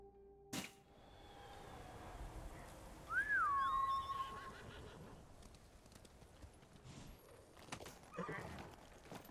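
A horse whinnies once in a rising then falling call, with soft hoof clip-clops and a sharp tap early on, all faint against quiet game ambience in Ghost of Tsushima.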